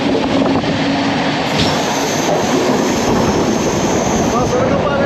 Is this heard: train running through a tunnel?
yes